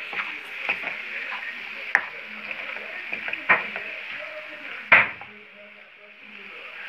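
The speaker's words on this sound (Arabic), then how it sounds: "نكمل هذا التخمير حتى يتمج حتى تشحر هاد البصيله مزيان" Soft continuous sizzle of onion sautéing in a pan for a potato cake, with occasional scraping stirs and a few louder knocks of the utensil against the pan.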